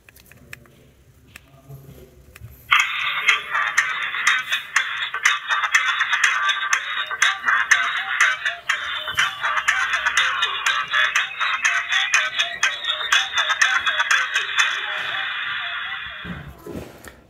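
An HG slim button mobile phone plays its ringtone loudly and continuously for about fourteen seconds, then stops abruptly, with no talking.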